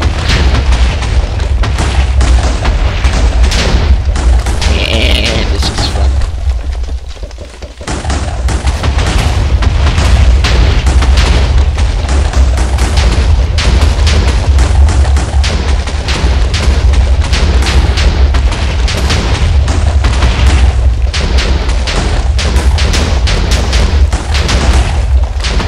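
Nukes from the Thaumcraft mod go off in the video game Minecraft: a loud, continuous barrage of deep booms and rumbling blasts, briefly dipping once before the explosions pile up again for the rest of the stretch.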